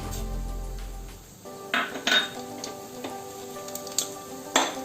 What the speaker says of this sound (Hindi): अब हम इस घी में हींग डालेंगे, 1 चम्मच जीरा डालेंगे